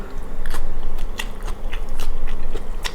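Close, loud chewing of food, with crunchy biting and crackling bursts in an uneven rhythm over a couple of seconds, without talk.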